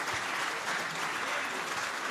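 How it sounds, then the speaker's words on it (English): Applause from a dinner audience at a VGA and Rise Up event in Moore County, a steady wash of many hands clapping at moderate volume. "let's give a big round of applause for Sergeant Major Patrick Payne and Andy Davis"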